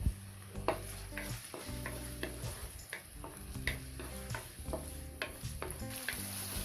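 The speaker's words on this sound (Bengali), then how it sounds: "পেঁয়াজটাকে হালকা ভেজে নিচ্ছি" Chopped onion and green chillies frying in cooking oil in a wok for fried rice, a quiet continuous sizzle with repeated spatula stirs and scrapes ticking through it.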